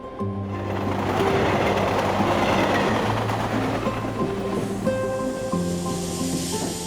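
A commuter train heading to Kalyan rumbles steadily with a loud continuous roar, rattling carriages and clacking wheels over the rails.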